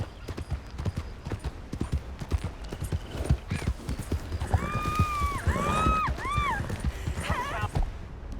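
Horse hooves clip-clop steadily in a video game, with a whinny partway through, close and clear over a quiet background.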